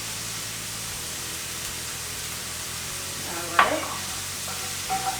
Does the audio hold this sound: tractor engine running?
no